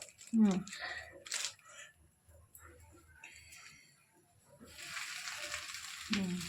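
Bread frying in oil in a home pan gives a faint hiss, swelling into a broader sizzle near the end, with a voice speaking over much of it.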